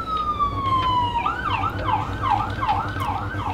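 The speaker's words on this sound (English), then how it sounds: "I don't know if you guys heard that siren on my end." An emergency vehicle siren sounds outside, first a long falling tone and then a rapid rising-and-falling wail, loud and continuous against a low background rumble.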